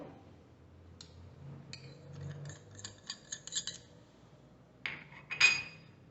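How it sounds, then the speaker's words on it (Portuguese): Brown sugar, white sugar and salt are stirred together in a bowl for pancake batter: scattered utensil clicks and scrapes against the bowl, a few sharper knocks near the end, no talking. "No caso aqui eu misturo o açúcar mascavo, o açúcar refinado, aí o sal"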